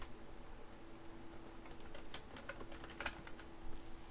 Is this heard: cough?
no